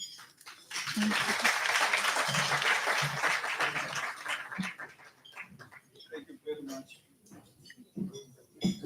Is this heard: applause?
yes